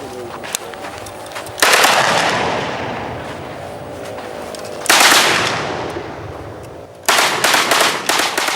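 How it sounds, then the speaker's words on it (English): Gunfire from an ex-militant in the Niger Delta, sounding as loud bursts of rapid automatic shots in three volleys with reverberant tails rolling off between them, heard outdoors at close range. "The last shots of an ex-agitator about to drop his arms"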